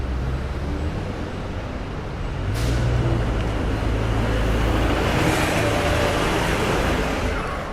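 Trucks crawl through busy New York City street traffic in Chinatown, a loud continuous low engine rumble and road roar that swells partway through, with a brief hiss.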